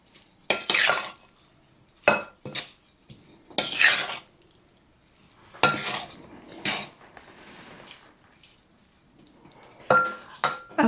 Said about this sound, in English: Get this stirred.